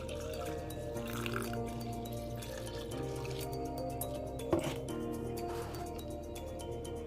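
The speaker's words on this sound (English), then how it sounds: "Then carefully pour the coffee to the funnel" Coffee poured through a paper filter set in a funnel over a cookie jar during caffeine extraction, giving a steady soft trickle and drip of liquid with one brief sharper knock partway through, close and continuous.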